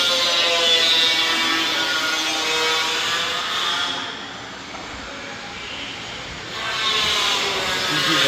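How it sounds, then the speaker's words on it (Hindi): Harsh, steady scraping and grinding from floor construction work inside a temple, loud and close, dipping briefly in the middle before returning at full strength. "ये अभी फर्श का काम चल रहा है मंदिर में।"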